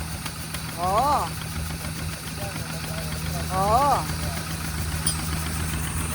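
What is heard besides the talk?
farm engine exhaust running loudly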